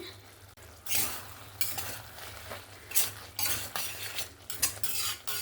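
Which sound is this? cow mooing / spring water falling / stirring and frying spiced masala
stirring and frying spiced masala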